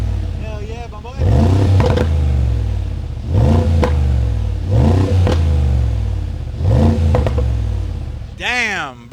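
Mercedes G63 with a $12,000 aftermarket exhaust, valves open in sport plus mode, revving hard in four loud blips and a final burble, with a voice talking between the revs.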